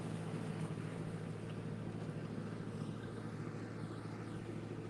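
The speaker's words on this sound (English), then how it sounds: "real Mississippi paddle boat" A Mississippi paddle boat on the river at Frontierland in the Magic Kingdom gives a steady low drone and rumble, with a wash of water and wind and no talking.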